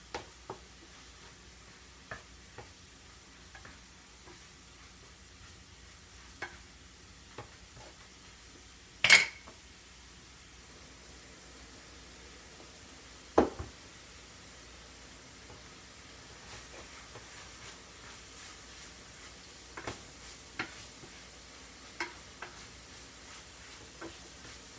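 Ground pork cooking down in a pan, a faint steady sizzle with scattered soft pops and a couple of louder utensil clanks.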